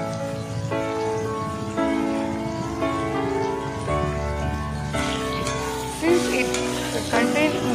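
Vegetables fry with salt in a pan for a radish karakuzhambu, a soft continuous sizzle under other kitchen sounds, including a steady tonal hum and clinks toward the end.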